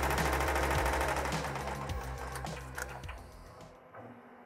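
Commercial embroidery machine sewing 3D puff embroidery on a Richardson 112 cap at 1000 stitches per minute, a dense rapid mechanical rattle with regular ticking that runs steadily, then tapers off and stops near the end.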